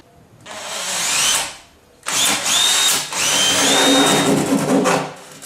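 A power drill whirs through material in two bursts while installing a pillar bath tap, a brief one and then a longer steady run with small dips, loud and close.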